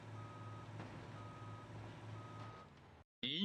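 A truck in BeamNG Drive sounds evenly spaced reversing beeps over a low engine drone, steady and moderately quiet, cut off abruptly near the end by a brief silence and a different sound.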